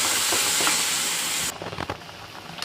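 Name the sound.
stirring spicy pasta with pepper and magic masala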